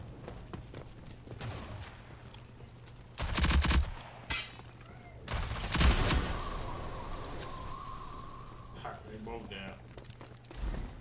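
Bursts of gunfire in the shooter video game Rogue Company, two heavy volleys and a short final burst, loud against a steady game backdrop, with players talking over the action.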